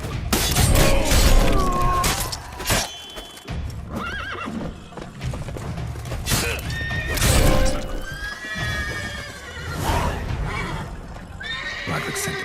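Horses neigh and whinny in The Witcher 3, with hooves clip-clopping among several loud, close whinnies over a busy game soundscape with crashes and thuds.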